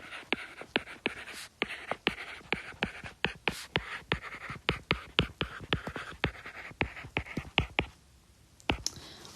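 Pen scratching out notes during a statistics lecture, a rapid run of crisp taps and strokes, close and fairly quiet, with a short pause near the end before the writing resumes.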